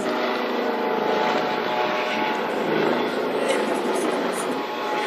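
Police helicopter flying over Central Park, a steady droning engine-and-rotor hum held at moderate loudness throughout, with voices faintly audible beneath it.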